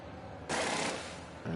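A pit-crew wheel gun in F1 Manager 24 at the Red Bull Ring, fitting a tyre that won't seat: one loud, harsh mechanical rattle of about half a second, then a lower sustained whir, with a second burst starting at the end.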